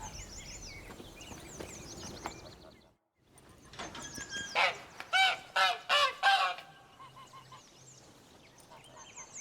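Caged hen in The Witcher 3 game world squawking and clucking in a burst of about six loud, harsh honk-like calls, with softer bird chatter before and after.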